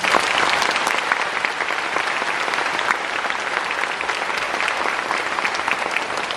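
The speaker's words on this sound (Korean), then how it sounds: "다시 한번 큰 박수 부탁드리겠습니다." Steady, even applause from a concert hall audience at a children's orchestra lecture concert with the Seoul Philharmonic, sustained and moderately loud with no speech.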